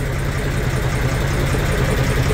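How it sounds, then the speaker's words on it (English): An old three-cylinder tractor engine aboard a boat runs steadily at idle, a loud, even low chugging throb with constant vibration and no talk. "It's an old tractor engine. It's a three-cylinder."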